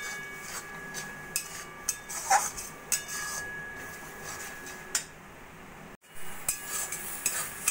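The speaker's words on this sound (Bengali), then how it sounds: "নাড়া দিতে দিতে আমের আচারটা আমাদের একদম শুকনো শুকনো হয়ে গেছে।" A spoon stirs mango pickle in a pan as it dries out, giving quiet scraping with scattered light clinks and ticks against the metal.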